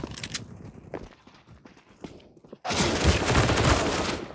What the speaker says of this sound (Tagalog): Ang lakas ng baril nun, ah.